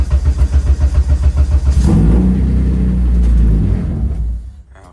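A K-swapped Honda Civic race car engine in freezing cold, loud and close, pulsing unevenly at a rough idle, then rising into a heavy rumble before fading as it nearly stalls.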